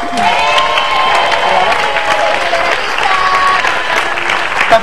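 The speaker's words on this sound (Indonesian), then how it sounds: "Pemirsa, tepuk tangannya dong" A studio audience on an Indonesian TV talk show applauds for a singer, loud dense clapping with some cheering that runs steadily throughout, close and full.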